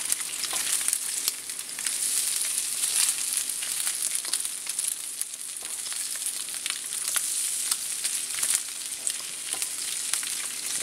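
Turkey bacon fries in a pan on a wet, snowy winter day, a loud, steady sizzle with crackling pops that continues without pause and no voices.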